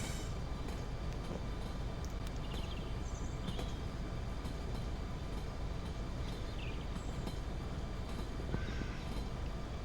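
Simulated freight train coasting down a steep grade like Cajon Pass with no brakes or throttle in Train Sim Pro USA, a steady rumbling roll with faint high squeals and clicks, continuous and alone without talk.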